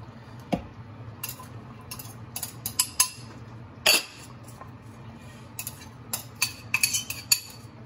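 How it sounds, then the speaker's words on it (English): Vegetables dropped into a pot of coconut chicken, with a run of sharp metallic clinks and scrapes from a utensil against the pot, scattered and irregular, close and fairly loud, no talking. "Now we're going to add in all of our veggies."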